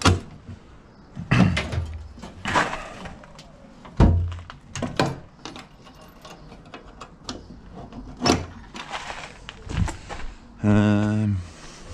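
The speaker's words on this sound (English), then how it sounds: "I really like these battery box door systems." A battery box door on a Pinzgauer military vehicle being opened and shut, giving a series of close, sharp metallic clunks and latch clicks spread unevenly through the stretch, ending in a brief buzzing rattle.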